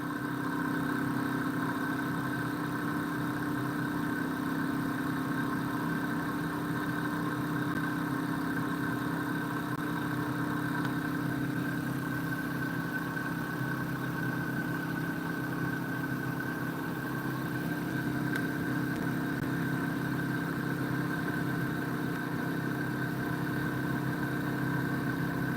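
A pulse motor runs at a steady high speed near 2,000 RPM on a 12-volt supply, giving a constant close-up hum with strong sustained tones and a faint buzzing vibration throughout, with no talking.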